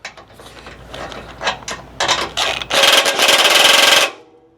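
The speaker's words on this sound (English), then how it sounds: "I'm going to undo the screws first." A hand ratchet clicks in short uneven strokes while backing out grille screws on a 2025 or later Toyota 4Runner, then gives way to a loud, steady whirring rattle, all close up and without speech.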